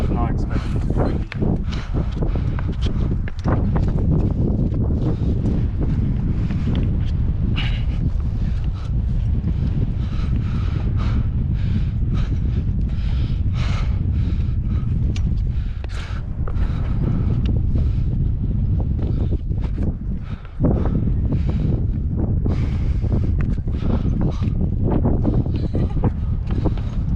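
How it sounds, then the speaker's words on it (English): Strong wind buffets the microphone on the Angels Landing hiking trail in Zion National Park, a loud, constant low roar with scattered crackles and thumps running nearly the whole time. "I was not expecting it to be windy."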